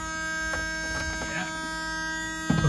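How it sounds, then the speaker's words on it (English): A steady electric buzz with a constant pitch from the fuel pump of a 1979 Honda Prelude barn find drones throughout, then a brief rattling clatter joins in near the end. "Let's see if that's our fuel pump."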